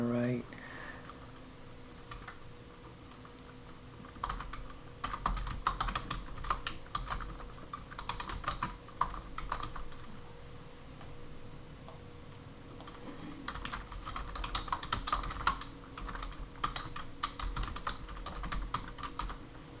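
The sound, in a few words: typing text on a computer keyboard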